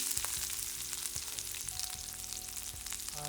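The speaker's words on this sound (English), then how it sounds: "Then you have your peppers and onions going in." Peppers and onions frying in a pan for restaurant-style bhindi bhajee, a bright, dense sizzle with crackling spits and occasional knocks, steady and close, no talking.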